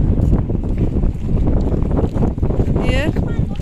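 Boats out on the water at a fishing spot, heard as a continuous rough wash of water and motor-like rumble buffeted by wind noise, with a brief whistling sound near the end.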